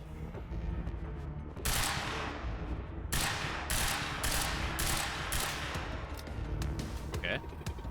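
Gunshots ring out in the Quantum Break shooter, a series of distinct loud cracks spaced roughly a second apart over a steady background, with a person talking underneath.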